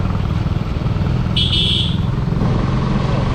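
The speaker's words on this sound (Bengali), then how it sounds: "এই ছেলে তোমরা এত স্পিডে বাইক চালাও কেন" Motorbikes on a road between Rangamati and Chittagong, a loud steady engine drone with a short high horn or whine in the middle, no talking.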